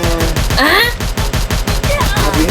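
Rapid gunfire from the Free Fire battle-royale game, a dense, loud run of repeated shots continuing through the whole moment, with a voice speaking over it.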